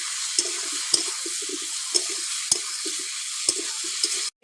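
Ginger paste, turmeric, salt and Kashmiri chili powder are fried and stirred in a pan for a fish curry with new potatoes and cauliflower, giving a steady sizzle with repeated scraping and clinking strokes throughout.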